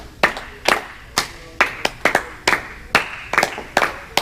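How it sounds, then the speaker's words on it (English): An audience claps together in a steady group rhythm, with about a dozen sharp, loud handclap bursts at an even pace, each one ringing briefly in the room. "So let's all clap together."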